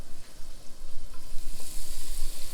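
Chilled chocolate pieces coated in pancake batter fry in hot oil, giving a loud, continuous close-up sizzle and crackle with no one speaking.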